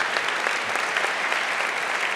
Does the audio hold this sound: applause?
yes